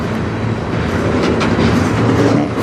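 A CN freight train rolls slowly past at night in Sarnia, Ontario, a loud, close, continuous rumble and rattle of cars and wheels with no pause.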